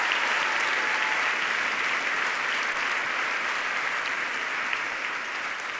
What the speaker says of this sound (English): So give yourselves a round of applause for making history as well.